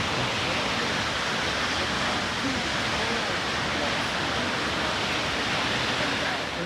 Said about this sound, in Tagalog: we made it to the Brandywine Falls over there